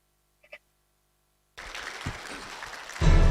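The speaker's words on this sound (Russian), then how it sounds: "бурные аплодисменты Михаилу Ефимовичу" An audience at a formal ceremony breaks into applause after near silence, the clapping starting abruptly and swelling louder toward the end.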